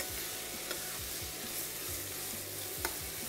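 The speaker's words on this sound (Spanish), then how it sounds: "Y vamos revolviendo." Seafood with a large diced chili pepper sizzles in a pan while a utensil stirs it in quick, repeated scraping strokes. The sound is quiet and close, with a steady frying hiss underneath.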